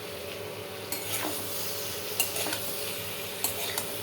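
Potatoes and taro being stirred with spices in a pan, a soft steady scrape and sizzle with a few sharper clinks of the utensil against the pan, no talking.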